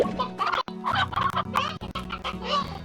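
Several chickens cluck continuously and close by in the video game Slime Rancher, mixed with harmonic game-style audio and a couple of sharp clicks.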